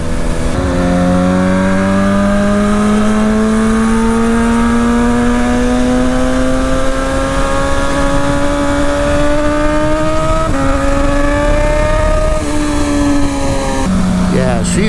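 A parts-bin motorcycle engine runs and revs, its pitch climbing steadily over several seconds, dipping briefly, then rising again before dropping off near the end; loud and close, with a rider talking over it.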